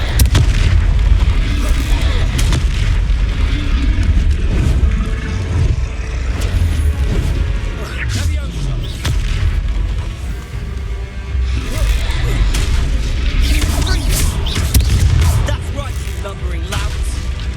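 Confringo fire spell blasts in the video game Hogwarts Legacy, heavy booming explosions over a dense, continuous battle mix with scattered impacts throughout.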